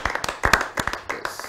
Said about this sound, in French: Si nous pouvons quand même applaudir